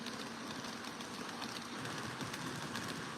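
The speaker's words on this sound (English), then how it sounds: "the Cassiopeia is the silver train you can see going around with the colourful electric locomotive up the front" A model E26 Cassiopeia sleeper train, silver cars led by a colourful electric locomotive, runs around a model railway track with a continuous rolling rumble and faint rhythmic clicking of wheels.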